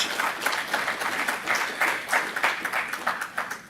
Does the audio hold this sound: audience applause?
yes